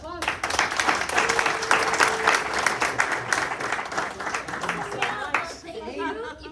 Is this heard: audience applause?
yes